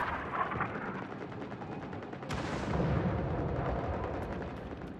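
Gunfire and explosive blasts in the online shooter game Firefall form a dense, continuous rumble of rapid shots with a sharp heavy impact midway, moderately loud with no voices.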